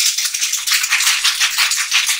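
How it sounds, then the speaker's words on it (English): A lidded container is shaken hard to mix a spooky mocktail, giving a loud, fast, continuous rattle of liquid and ice that lasts about two seconds with no talk. "We're gonna give it a really good shake."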